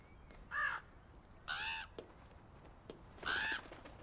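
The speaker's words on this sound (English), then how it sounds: "What on earth is that bird doing?" Three loud, harsh caws from a crow in the video game Draugen, spaced about a second apart, with a couple of faint clicks between them over a quiet background.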